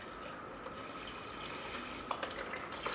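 Liquid pours into a cooking pot for shrimp stew, a soft steady trickling and splashing stream, close but fairly quiet, with a few brighter drips near the end.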